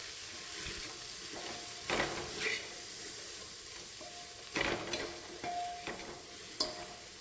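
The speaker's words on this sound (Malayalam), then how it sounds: "ഫ്ലെയിം കൂട്ടി വെച്ചിട്ട് നന്നായിട്ട് കുറച്ച് നേരം വഴറ്റിയെടുക്കണം കേട്ടോ" Mixed vegetables are sautéed over a raised flame in a pan for vegetable biryani; a soft sizzle runs beneath irregular bursts of spoon scraping and stirring, fairly quiet and without speech.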